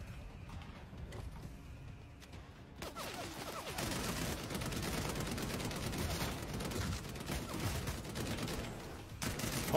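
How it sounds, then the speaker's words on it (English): Video game gunfire crackles in dense, rapid bursts after a quieter, faint opening, holding steady and fairly loud until the end. "Someone was shooting at them."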